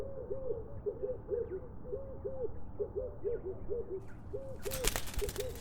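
An owl hoots in a calm animated forest story, a steady series of soft paired hoots repeating throughout over low ambient music, with a brief brighter rustle near the end.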